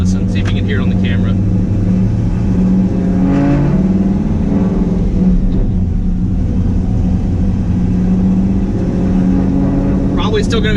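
A 2010-2015 Camaro SS fitted with a KraftWerks supercharger kit gives a constant deep exhaust rumble while driving off boost, and someone talks over it through most of the stretch.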